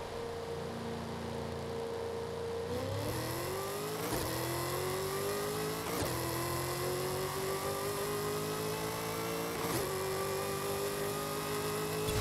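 A Ford Falcon GT F with a Coyote V8 accelerates hard from a second-gear launch in Forza Horizon 5, the engine note climbing steadily with several sharp gear shifts, loud and continuous with no talking.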